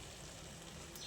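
Chopped banana flower frying in oil for a pickle while being stirred, a faint, steady sizzle with a soft hiss throughout and no talking.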